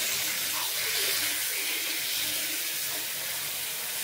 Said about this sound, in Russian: Мне кажется, воды уже многовато, Ань.